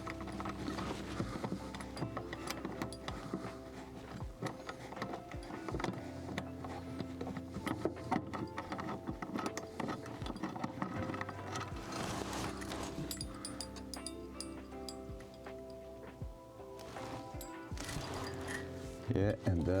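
Ratchet wrench clicks tightening a seat bolt in a Datsun, quick bursts of mechanical ratcheting with metallic knocks and shuffling between them, close by, while a voice talks at times.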